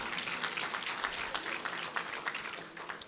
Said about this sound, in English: Can we just give them another round of applause?